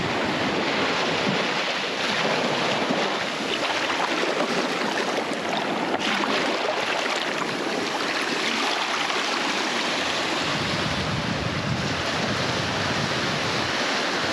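Surf breaks continuously on a beach near Bremer Bay, with a broad steady wash of water and some wind noise on the microphone, with no voices.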